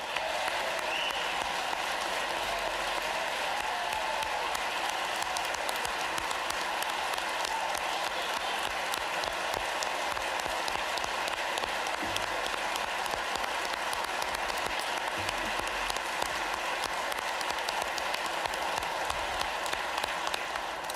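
An audience applauds first responders at a state budget address, a dense, sustained wash of many hands clapping that holds steady and loud for the whole stretch.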